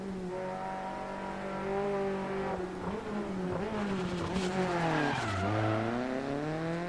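A rally car in a racing video game downshifts, its close engine note stepping and dipping through gear changes while tires skid and squeal in brief bursts over the steady drone.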